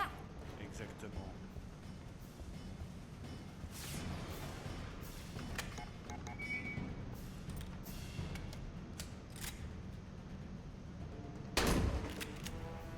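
Gunfire in the video game Aliens: Colonial Marines: muffled bursts and scattered shots over a busy low rumble, with one louder, sharper impact near the end, while people talk over the action.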